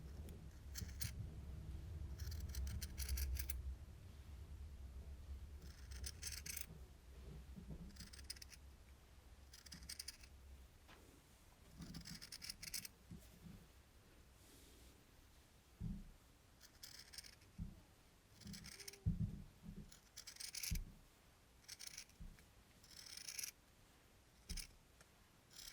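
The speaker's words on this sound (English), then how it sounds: "I'm going to cut in a straight line" Scissors snip through T-shirt fabric in a straight line, a steady run of quiet, close cutting strokes with small pauses and no talking.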